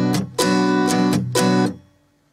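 Acoustic guitar strumming the first rhythm pattern for a song, five bright strums in a syncopated groove with ringing chords between, close and clear, ending in a fading ring-out.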